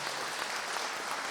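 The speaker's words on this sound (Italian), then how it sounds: "questo bell'applauso" Audience applause at a Sardinian folk dance and culture event, a steady continuous patter of many hands clapping at moderate level, unbroken and without speech.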